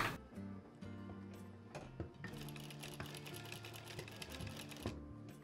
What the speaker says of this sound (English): I'll be just sewing on both sides.